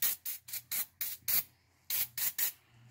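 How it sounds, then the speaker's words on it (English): Quick bursts of spray hit the front differential of a 2000-2006 Chevy Tahoe, eight or so sharp hissing pulses in two groups with a brief pause between, close and loud. "I'm gonna spray that."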